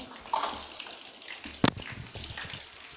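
Water poured into a cooking pot for boiling pasta, six glasses measured in, a steady close splashing and sloshing with one sharper splash midway.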